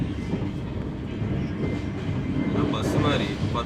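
Train running on rails, a steady loud rumble with faint clickety-clack throughout, heard from on board during a trip to Goa, with voices faintly underneath.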